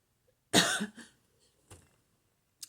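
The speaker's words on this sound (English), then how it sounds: "Why does I do this coughing every time I start these?" A woman coughs nearby in one loud harsh burst, followed by a couple of fainter throat sounds and a short click near the end.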